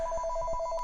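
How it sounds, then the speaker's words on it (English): A telephone rings with a steady electronic trill in short repeated bursts, close and fairly quiet, with faint soft thumps underneath and no voices. "it's lunchtime and the phone's ringing"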